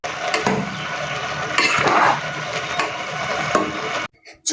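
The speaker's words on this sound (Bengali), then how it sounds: "এবারে ভালোভাবে নেড়ে চেড়ে দিতে হবে যাতে সব দিকে চালগুলো সমানভাবে সেদ্ধ হতে পারে" A utensil stirs roast pilaf rice in a metal pot, making close, repeated scraping and clinking sounds that stop abruptly near the end.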